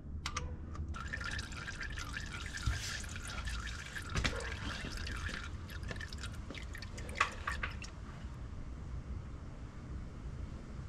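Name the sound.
engine oil draining from Ford Focus oil pan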